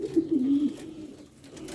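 Racing pigeons coo in a loft: a low, soft, rolling coo runs through the first part, then fainter murmurs follow, fairly close and alone.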